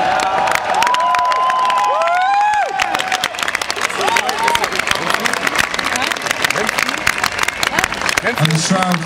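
Concert crowd at the Hurricane festival applauding and cheering loudly for the drummer, with dense clapping and scattered whoops and shouts that stay close and continuous throughout.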